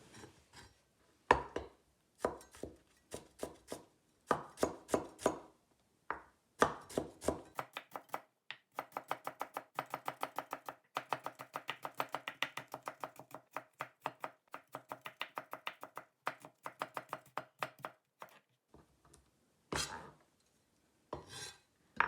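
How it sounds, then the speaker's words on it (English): Knife julienning carrots on a cutting board, first as slower separate chops, then a long fast run of even, crisp taps against the board, close and clear with no talking. "Then lay the carrots flat and julienne."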